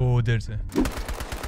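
Thompson submachine gun fire in a Battlefield game, a burst of rapid repeated shots following a man's brief speech, loud and close with crackling report.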